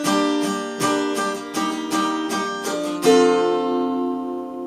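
Guitar chords strummed in repeated strokes, each ringing out before the next, changing chords along the way and ending on a sustained chord, close and clear.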